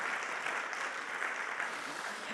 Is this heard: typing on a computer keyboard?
no